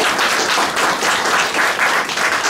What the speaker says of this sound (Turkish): Hepinizden rica ediyorum. Lütfen bunları alkışlayın.